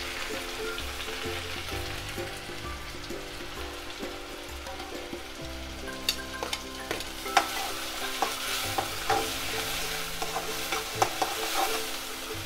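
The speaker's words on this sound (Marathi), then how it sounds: "कांदा टाकून घेऊया." Chopped onion frying in hot oil in a pan for a Marathi wet shrimp masala, a steady close sizzle with scattered crackles and stirring scrapes that grow busier toward the end, no talking.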